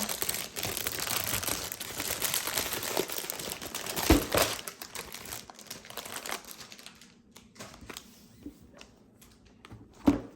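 Plastic bags from a LEGO Marvel Spider-Man Daily Bugle set crinkle and rustle close by as they are handled and opened, busy at first and thinning out into scattered crackles with a sharp rustle near the end.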